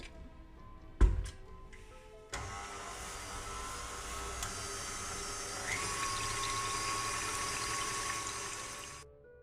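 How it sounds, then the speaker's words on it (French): Cream is whipped until firm with an electric mixer, which starts after a clunk and a few clicks and then runs as a steady, continuous whir, close and fairly loud, before it stops. "on va fouetter la crème jusqu'à obtenir une texture ferme."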